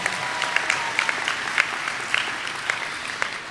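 A high school graduation audience claps in a big round of applause, a steady patter of many hands with a few sharper individual claps, moderately distant in a large venue, with no voices over it.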